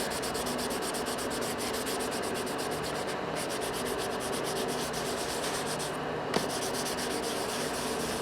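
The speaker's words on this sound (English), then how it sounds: "I'm just going to sand the headlight with this 3000 grit" A vehicle headlight on a Polaris Ranger 6x6 being wet sanded by hand with soapy 3000 grit sandpaper, giving a steady, close, rhythmic rubbing and scrubbing that runs throughout with no talking.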